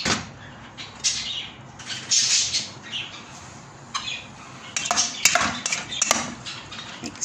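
Food is mixed in a bowl with clattering, scraping strokes of a utensil against the dish in irregular bursts, close and moderately loud, with no talking.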